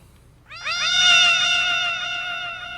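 A voice imitates a cat's meow, a single drawn-out, wavering nasal cry that rises sharply and then slowly fades, loud and close against a quiet room.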